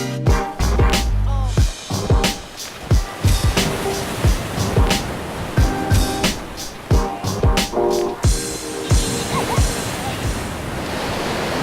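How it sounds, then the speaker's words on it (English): Ocean waves breaking on a small beach in Portugal, loud continuous surf close by with wind buffeting the microphone in repeated sharp gusts throughout. "It's a very small beach, but it's beautiful waves."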